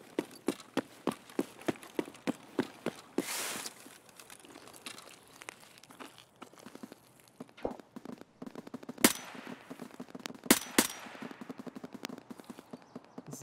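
Gunfire in the Escape From Tarkov shooter game, a run of sharp evenly spaced single shots followed by scattered louder cracks and bursts amid footstep and movement noise, with no talk.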